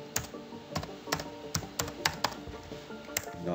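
Keys clatter on a computer keyboard while a search term is typed into a configuration file, a run of close, irregular clicks in short bursts, with no voice.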